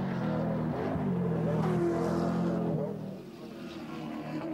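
Larry Perkins' touring car at the 1986 James Hardie 1000 at Bathurst snarls across the top of Skyline, its engine note rising and then dropping as he changes down into the corner, moderately distant, with commentary running over it.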